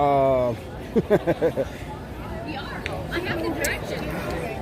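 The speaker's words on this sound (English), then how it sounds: "We have a really good crowd here." Steady murmur of many voices from a busy crowd on a Manhattan street on a summer Saturday evening, mid-distance hubbub with a nearer voice speaking briefly over it.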